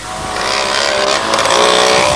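A white motocross motorcycle in a 1985 motocross race roars past loud and close, its engine note rising and swelling as it nears.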